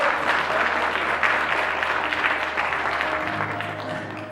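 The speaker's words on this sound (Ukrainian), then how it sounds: "Ваші оплески!" Festival audience applause at an anniversary contest-festival, a dense, loud burst of clapping from a large crowd that holds steady for a few seconds before tapering slightly at the end.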